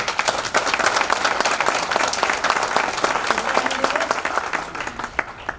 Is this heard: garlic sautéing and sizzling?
no